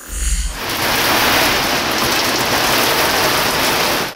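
Heavy rain pours down in a dense, steady roar during a late-May downpour in Syktyvkar, loud and unbroken after a brief quieter start.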